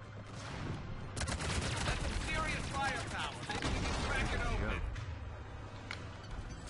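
Sustained gunfire in Mass Effect 3, a dense fusillade of rapid shots and bursts that carries on for several seconds at a steady, fairly loud level, with a voice talking over it.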